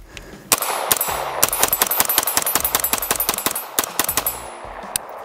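Rapid bursts from a B&T APC9 airsoft gun: dozens of sharp, closely spaced metallic cracks fired in quick strings, loud and near, with brief pauses between volleys and no talking.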